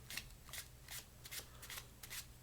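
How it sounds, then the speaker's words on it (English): A deck of playing cards being shuffled during a close-up card trick, giving a quick series of crisp riffling bursts, about six short flutters in an uneven rhythm, heard close up and alone with no talk. "you're going to shuffle all of these cards off"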